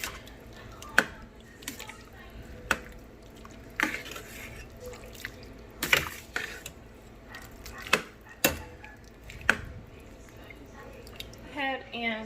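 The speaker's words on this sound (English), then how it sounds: "I'm going to go ahead and stir it all around, mix it all together" A spoon stirs stuffed pepper soup in a pot with soft wet squishing and slopping, broken by about eight sharp clinks against the pot at irregular intervals. The sound is close and fairly quiet, with a faint voice murmuring underneath.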